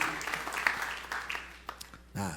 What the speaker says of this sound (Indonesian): Sorak-sorai tepuk tangan yang paling meriah buat Yesus.